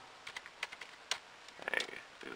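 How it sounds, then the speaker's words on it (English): Keys pressed on the keyboard of a Windows XP Home computer that has stopped responding, a handful of irregular close clicks and taps with short pauses between them. "Push anything on the keyboard."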